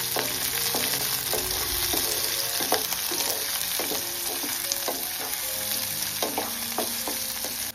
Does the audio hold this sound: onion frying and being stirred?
yes